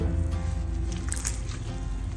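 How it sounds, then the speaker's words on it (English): Close, wet squishing and crackling as soggy sphagnum moss is squeezed by hand, water dribbling out in short bursts over a low hum. "Just squeeze out some of the water."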